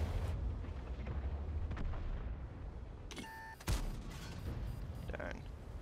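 A tank cannon fires in World of Tanks: one sharp, booming shot cuts through steady battle rumble partway through, while a person talks quietly over the scene.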